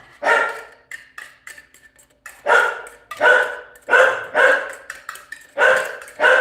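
Repeated loud dog barks close by, a few softer yips early on, then a steady run of five or six full barks at an even pace.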